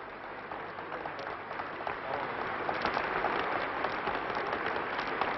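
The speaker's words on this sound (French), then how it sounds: "la salle éclata en applaudissements qui durèrent longtemps" A theatre audience at the Bolshoi applauds Madame and M. Pompidou, sustained crowd clapping that swells slightly and holds dense and even for several seconds, heard as an older, muffled recording.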